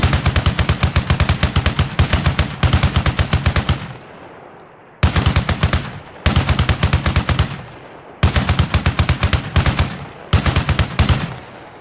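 A vehicle-mounted gun fires from the hip in Arma Reforger. It lets out loud, rapid automatic bursts of about two seconds each, separated by brief pauses, with no talk.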